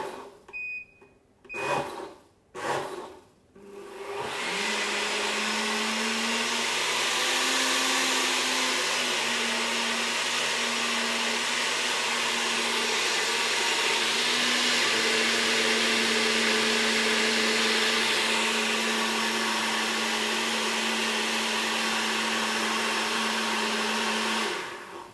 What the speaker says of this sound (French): On va refermer notre mixeur et on est reparti pour un tour.